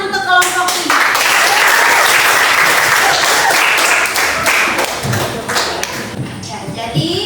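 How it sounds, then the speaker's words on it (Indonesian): Students in a classroom applaud group 3 after their presentation, a loud burst of many hands clapping close by, with a few sharp thumps, that swells and then tapers off over several seconds. "tepuk tangan untuk kelompok 3"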